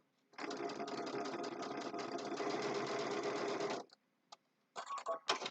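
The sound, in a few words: sewing machine stitching fabric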